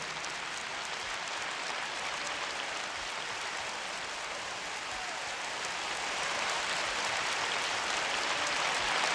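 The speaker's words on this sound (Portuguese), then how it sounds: "Pode glorificar Ele com palmas" Church congregation applauding to glorify Jesus during a sermon, a dense, steady roar of many hands clapping that swells slightly louder toward the end, with no voices over it.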